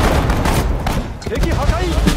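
Rapid gunfire and bursts of machine-gun shots in the Sudden Strike 4 Pacific War strategy game, crackling shots layered over battle noise with spoken unit voice commands.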